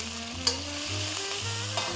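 Alamang shrimp paste with oil, onions and tomatoes sizzles steadily in a pan, a bright continuous frying hiss broken by a couple of sharp scrapes from stirring, with a low hum underneath.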